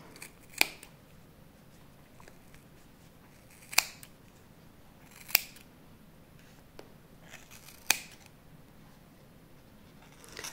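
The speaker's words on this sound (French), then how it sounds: "découper les franges à l'extrémité" Scissors snip through knitted yarn fringes wrapped around cardboard for a tassel, about five crisp close cuts spaced a second or more apart, with softer rustling between them.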